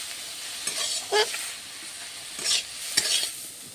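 Leafy greens frying in a pan while being stirred, with a soft steady sizzle broken by several scraping strokes of the spatula, each a short bright burst.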